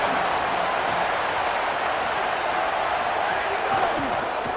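Dense, steady roar of a football stadium crowd, a continuous wash of many voices with no breaks, a commentator speaking over it.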